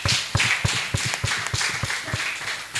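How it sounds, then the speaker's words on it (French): Steady, evenly spaced claps from a small number of hands ring out crisply for a few seconds in a studio magazine show about children's daycare, with no voices over them. "Sous vos applaudissements,"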